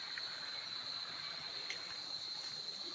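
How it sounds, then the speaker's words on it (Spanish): Steady high-pitched insect drone of cicadas beside a stream, continuous and even throughout, with a faint rustle near the end. "Escuchen el río de las chicharras"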